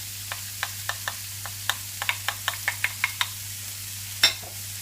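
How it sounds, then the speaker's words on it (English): Vegetable stir fry with red onions in a pan: a faint sizzle under a run of sharp, evenly spaced spatula taps, ending in one louder clack, close by with a low steady hum beneath. "We have got a pretty big old stir fry mix going on there now"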